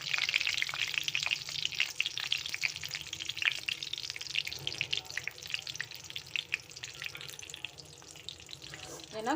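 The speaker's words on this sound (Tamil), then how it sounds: "நல்லா ஓரளவுக்கு மீடியமாக பொறிச்சு எடுத்துக்கலாம்" Brinjal pieces frying in hot oil, a steady crackling sizzle with dense bubbling that holds close and even for the whole stretch, with no one speaking.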